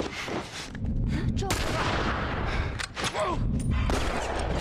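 Gunfire crackles through a shootout in The Last of Us, with repeated loud shots and booming bursts layered over a dense rumbling backdrop, and a few short gaps between volleys.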